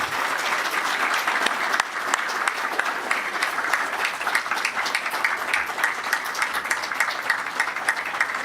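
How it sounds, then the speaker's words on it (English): An audience gives steady, sustained applause for new fire department members at a fire department promotional award ceremony, with dense clapping throughout and faint voices underneath. "if I could ask you all for a round of applause for our new members of the fire department"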